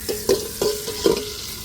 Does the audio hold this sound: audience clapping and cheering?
no